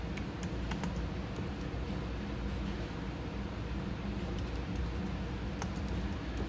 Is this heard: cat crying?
no